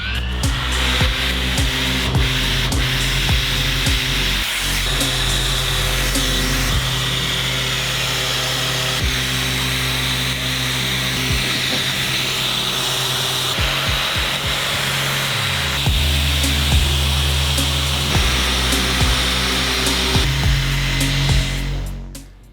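A Mirka orbital sander with a 3 mm orbit runs steadily over interior wood panels, giving a loud, continuous whirring buzz that barely varies, with faint shifts in pitch as the pad moves across the surface and no talking.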